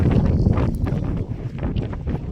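Strong wind buffets the microphone with a continuous low roar and gusty rumble, loud and close throughout, with no one speaking.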